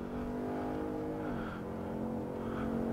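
Ford Mustang GT V8 engine on a race track, a steady loud drone under load with a slight pitch dip midway as the car lifts off and then accelerates hard again.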